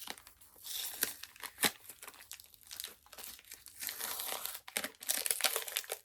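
A well-taped package holding comic books is pulled open by hand, with close, faint crinkling plastic, ripping tape and rustling paper in uneven bursts, and no one talking.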